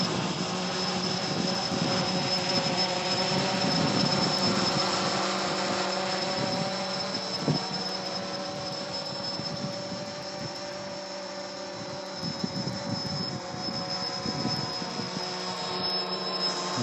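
A WLToys V303 Seeker quadcopter drone carrying a Walkera 2D gimbal flies in a strong headwind. Its motors give a steady, high electric whine with a faint hum under it, at an even level throughout.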